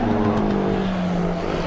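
A Porsche race car roars past on the track during qualifying, a loud, sustained engine note sliding slightly downward in pitch as it passes close by, with no talk.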